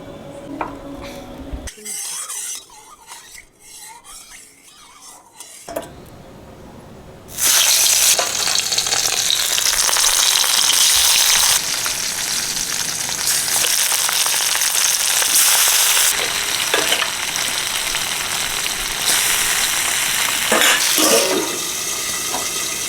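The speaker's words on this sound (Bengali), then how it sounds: "তেল দিয়ে দিলাম মাছ ভাজি" After a few seconds of quieter kitchen sounds, loud continuous sizzling of tangra fish frying in hot oil fills the rest, close up and steady.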